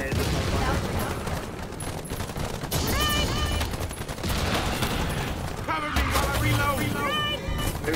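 Gunfire rattles through a cooperative shooter match in the video game Earthfall, heavy repeated bursts and blasts piling over one another in a loud, busy mix throughout.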